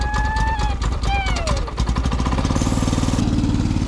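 A 5hp go-kart engine catches and settles into a loud, steady low putter after voices at the start, running close by with a rapid even rhythm.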